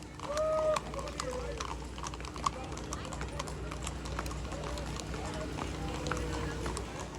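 Hooves of Shetland ponies and mules clop in a quick, uneven patter at a parade, with a steady low rumble and a faint voice underneath.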